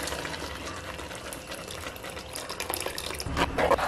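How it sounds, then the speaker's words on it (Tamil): Tamarind water is poured into a mud pot of simmering red snapper fish gravy, giving a continuous liquid splashing and trickling that grows louder near the end, with no talking. "புளி கரைச்சி ஊற்றிக்கலாம்,"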